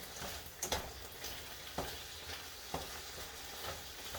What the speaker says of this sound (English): I'm going to give it a nice good stir. Because I can see some of the meat's actually starting to cook off.